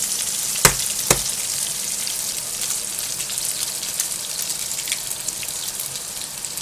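Eggs frying in a hot pan with vegetables for an omelette: a steady, bright sizzle that holds throughout, with two sharp clicks near the start.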